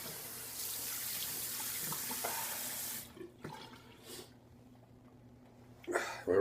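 Cold tap water runs steadily into a sink during a shave rinse, then cuts off around the midpoint, leaving quieter handling noises and a brief splash near the end.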